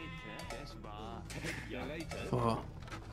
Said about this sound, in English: There's a few sheep there as well.